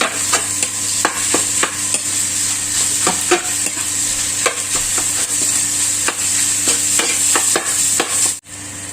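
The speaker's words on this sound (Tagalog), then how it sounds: "Ilalagay na po natin ang ating giniling, ground pork. Isayin lang po natin ng maigi at pagmantigayin ng ating giniling." Ground pork stir-fried in oil for pork chao fan, with a steady loud sizzle broken by repeated sharp scrapes and clacks of a spatula against the pan, no voices.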